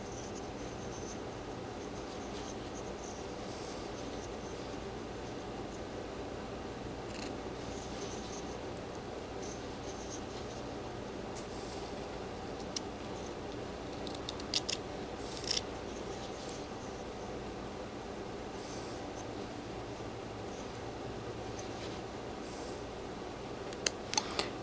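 Small whittling knife shaving wood while carving a golden retriever figure, close and quiet, with soft repeated scraping and cutting strokes spread through the clip and a few sharper snicks near the end.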